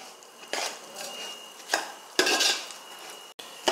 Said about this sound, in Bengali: এখন চালটা ভালোভাবে ভেজে নিই।